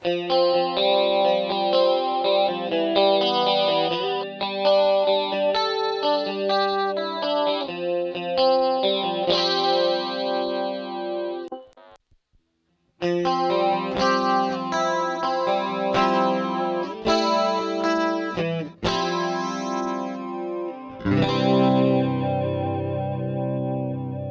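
Electric guitar played through an MXR Rockman X100 pedal on a super compressed clean setting, shimmering chorused chords and arpeggios ringing steadily, with one brief pause midway before the sustained, even-level playing resumes.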